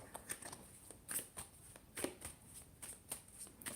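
Cards being shuffled in a series of quick riffling bursts, repeated crisp flutters at close range with no talking.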